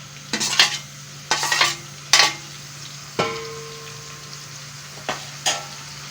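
Onion paste hits a hot pan for a chicken chana curry and sizzles steadily under repeated stirs and scrapes of a spoon, several distinct bursts spaced over a constant frying hiss.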